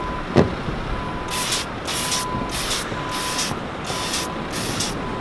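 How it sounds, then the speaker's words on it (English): A spray rig sprays coating about two feet from a surface in bursts of hissing spray repeating in a steady rhythm, each lasting about half a second, preceded by a brief sharp knock. "you can see I'm spraying about 2 feet away from the surface"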